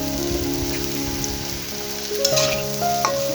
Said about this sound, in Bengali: এখন উলট পালট করে ভেজে নেব।